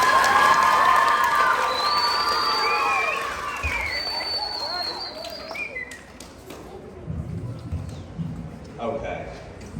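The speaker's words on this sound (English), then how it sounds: "we'll give them one more round of applause" Audience at a fifth grade graduation ceremony cheering and clapping, with high shouts and whistles over steady applause that gradually fades to a murmuring crowd.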